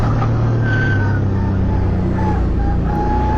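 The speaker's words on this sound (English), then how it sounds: "Ashley Jarvis sideways out of turn 4 as he tries to get the power down in the Camaro." A Camaro race car on a hot track, sliding sideways out of a turn with worn tyres, its engine a loud steady roar with shifting pitch as the driver fights for traction.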